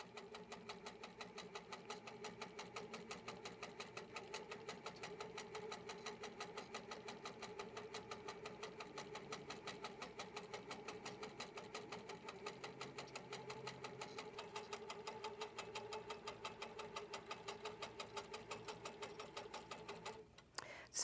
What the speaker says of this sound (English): Now it will stitch my clamshells across my quilt.